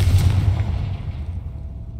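The Confringo explosive spell goes off in Hogwarts Legacy as one loud, deep boom that rumbles and fades away over about two seconds, with no talking.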